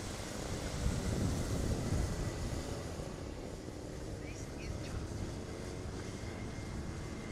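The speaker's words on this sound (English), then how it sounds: "So our nano karts take to the circuit." Nano karts racing around a circuit in a Lithuanian national race round, a continuous buzzing engine drone with a louder pass near the start, then a steady mid-distance hum.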